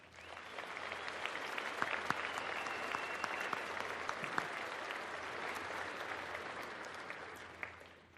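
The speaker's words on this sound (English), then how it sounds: "Please join me in giving these valued educators a round of applause." A graduation ceremony audience gives educators a round of applause, a steady wash of many hands clapping in a large space, sustained for several seconds before tapering off.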